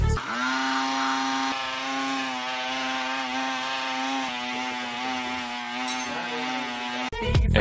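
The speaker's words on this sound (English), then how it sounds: "carefully pour the mixture into a coffee grinder." A coffee grinder whirs loudly at a steady high pitch while blending a powdered mixture of potassium nitrate, sucrose and iron oxide, running continuously for about seven seconds before cutting off with a clatter.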